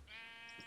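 A single short bleat from a sheep on a video game farm, close and clear but quiet.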